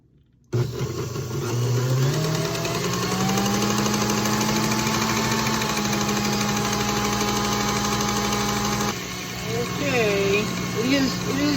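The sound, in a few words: stand mixer churning cream into butter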